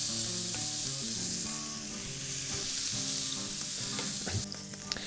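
Sausages sizzling steadily on a hot grill, a loud continuous frying hiss with crackles throughout, close up, with no voices.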